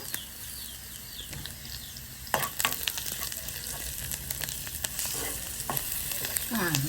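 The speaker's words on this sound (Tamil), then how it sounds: "2 பச்சை மிளகாய் போடுங்க. நல்லா தாளித்து போட்டு கொஞ்சம் பொன்னிறமாக வந்தோடனே" Two green chillies sizzle and spit in hot oil for chicken kothu roti, a dense continuous crackle with occasional stirring scrapes, close and steady throughout.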